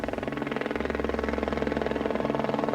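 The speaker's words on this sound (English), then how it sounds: "A freelance cameraman captures the helicopter as it flew overhead." A helicopter flies overhead near Everest, its steady rotor chop pulsing evenly for the whole stretch at moderate loudness, with a low engine drone underneath and no voices.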